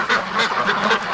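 Ducks inside a barn quack loudly and close by, several overlapping calls in a quick, rhythmic series with no talking.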